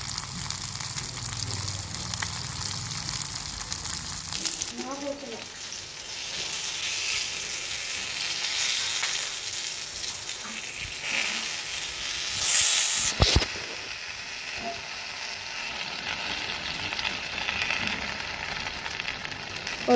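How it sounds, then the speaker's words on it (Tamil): Fish frying in a pan with masala, a steady broadband hiss and sizzle that runs throughout, with a few brief louder spikes near the middle and no talk. "இப்போ 2 நிமிஷம் நம்ம ஒரு பக்கம் நல்லா வேக வச்சுக்கலாம்."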